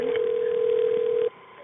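A steady telephone tone sounds for about a second, then cuts off into quiet line hiss, as an emergency call switches over to the ambulance service.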